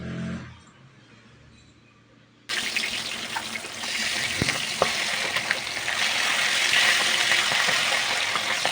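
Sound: katla fish frying in hot oil in a wok

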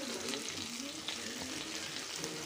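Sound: drumsticks and brinjal frying in a pan

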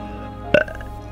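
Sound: burping

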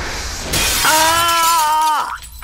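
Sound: glass shattering

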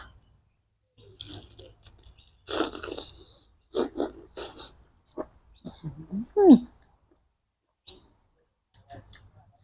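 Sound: chewing crunchy squid

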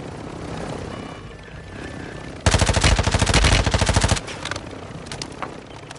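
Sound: attack helicopter in video game Warzone MW2

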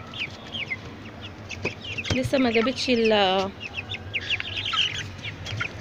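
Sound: chickens clucking

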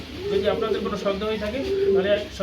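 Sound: pigeons cooing

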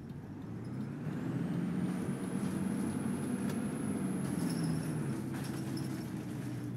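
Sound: DAF DB250 bus engine in video game OMSI 2

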